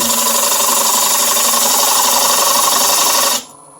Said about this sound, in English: Or else you could use your carbide tip, your easy wood tool right here.